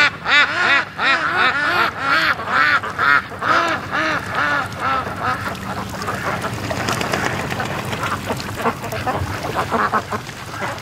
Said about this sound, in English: the sound out here when the ducks are quacking is awesome